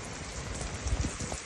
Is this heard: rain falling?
yes